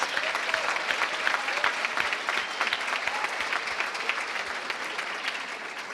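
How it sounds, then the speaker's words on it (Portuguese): An audience at a corporate debate event applauds as a CEO is introduced, continuous mid-loud clapping with sharp individual claps standing out, going on steadily for about six seconds. "Uma salva de palmas"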